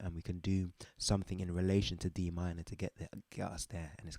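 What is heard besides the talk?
No everyday noises stand out.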